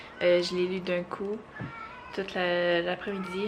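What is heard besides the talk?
cat in heat meowing and yowling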